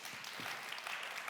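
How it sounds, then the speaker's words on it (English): Audience applause at the BEA World 2024 event, a brief, steady wash of clapping from a crowd, moderately faint and continuous without talk. "Good applause for that"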